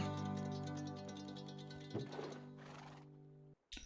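A horse named Gilberto whinnies in a video game, a loud, close, rising-and-falling neigh that trails off, followed by a soft snort and a brief clip of hooves or movement at the end.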